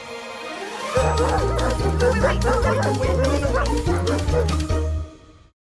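Several dogs bark and yip in quick repeated bursts, loud and close, with some whimpering mixed in, before the sound cuts off abruptly.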